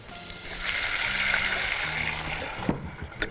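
Half a cup of plain water poured into a pan of butter and sautéed garlic, a steady splashing pour lasting a couple of seconds, close and moderately loud, ending with a small clatter.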